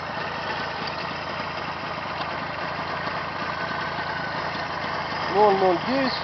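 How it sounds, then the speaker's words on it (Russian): A quiet motor idles evenly with a soft, steady hum. Near the end, a brief tonal whine or voice rises over it. "Мотор тихенький, холосты не стал прибавлять."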